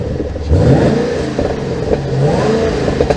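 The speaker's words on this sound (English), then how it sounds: "Let's give it a little bit of a rev." Completely stock 2013 Chevrolet Camaro ZL1 with a V8 engine revving up, a loud, close rumbling burst that swells and holds steady for a few seconds.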